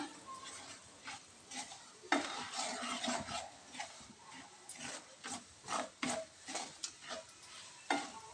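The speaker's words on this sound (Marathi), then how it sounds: "आता मसाला छान फ्राय झालेला आहे." Spice masala for a sweet amla pickle frying in a pan, with a steady sizzle broken by repeated scraping stirs and light clinks of a spoon against the pan, close and clear.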